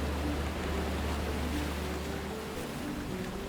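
Steady, continuous wash of open-sea waves and wind in the Expeditions: Rome video game, a broad even roar that holds at constant loudness throughout with no voices over it.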